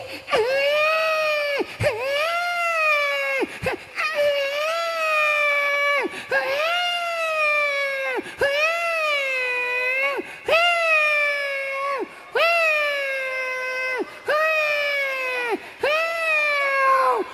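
A voice imitating a newborn baby's cry and a passing cat, with long, wavering wails repeated about every two seconds, loud and close.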